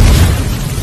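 A loud, roaring energy-blast explosion effect, a dense low boom with broad crackling rumble that swells at once and slowly thins out over under a second.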